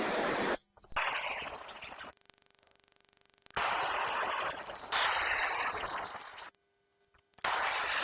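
A strong water spray rinses taro bulbs, giving broad loud hissing rushes that start and stop abruptly, broken by short silences and a stretch of faint background hum.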